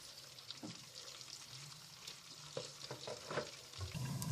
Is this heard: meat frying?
yes